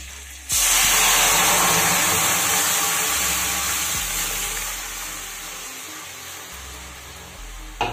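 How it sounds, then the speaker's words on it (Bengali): Hot tempering poured into tomato dal bursts into a loud, sudden sizzle that hisses steadily, slowly fading over several seconds before a small clatter at the end. "এবার ডালটাকে ফোড়ন দিয়ে দেবো।"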